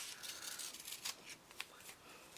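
Scissors roughly cutting fabric leaf shapes, a few quick soft snips and rustles of cloth close by, faint and low in level.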